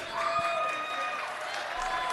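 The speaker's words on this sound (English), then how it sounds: "hold the applause, please" Applause at a city council meeting: a steady wash of clapping from a seated audience, moderately loud and continuous through the short moment.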